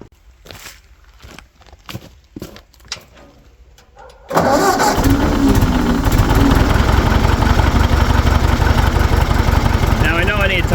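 A 1940 Ford 9N tractor engine cranks after a few light knocks, then catches and settles into a loud, steady running roar that holds to the end.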